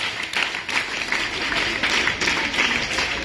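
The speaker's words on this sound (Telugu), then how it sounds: "క్లాప్స్." An audience claps hands together at a tenth-class career talk, a dense, steady patter of many hands filling the room at close range for a few seconds, with no voices over it.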